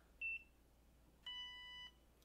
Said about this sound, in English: you do wanna wait for that second beep